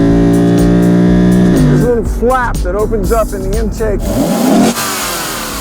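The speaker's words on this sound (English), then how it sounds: "rev out that V8 in the Lexus RCF" A Lexus RC F V8 idles and then revs hard several times, each rising and falling sweep loud and close, while someone talks over the engine.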